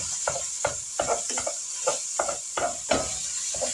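A pound of hamburger meat frying in a pan for a casserole, steady sizzling under repeated scraping strokes of a utensil stirring the meat, close and rhythmic, with no talk.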